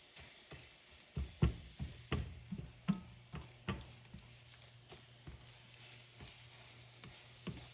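Three scrambled eggs cooking in a pan, with spatula stirring scrapes and taps at an uneven pace over a low, steady sizzle, close and moderately loud, no talking.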